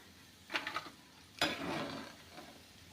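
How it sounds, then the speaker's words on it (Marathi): Shankarpali being lifted out of hot frying oil: a few quick scraping, clinking strokes of a spoon in the pan over a faint, low sizzle, close-up and quiet. "आता हे शंकरपाळ्या आपण काढून घेऊया"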